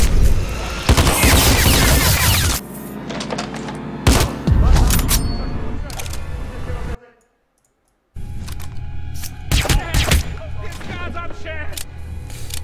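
Hitman: Absolution gameplay with bursts of loud gunfire, several rapid shots clustered early, a near-silent gap, then more scattered shots and game effects.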